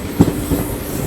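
The Mumbai LTT to Chennai Central express rolls loudly past at Kadapa railway station, a continuous heavy rumble of railcars broken by two short clacks as the wheels cross rail joints.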